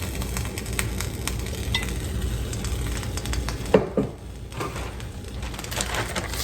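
Damp turnip greens saute in avocado oil over high heat, giving a continuous close sizzle and frying crackle with occasional stirring, plus a brief sharp clatter partway through and no talking.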